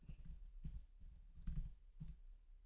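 Soft, faint keystrokes tap on a computer keyboard in short irregular bursts, quiet and close with no talking.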